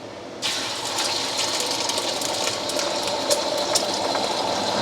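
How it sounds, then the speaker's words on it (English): Four whisked eggs poured into a hot stainless steel wok on an induction cooktop, a sudden loud hissing sizzle that starts abruptly and continues steadily with small crackles. "First step is to fry the eggs, so 4 whisked eggs."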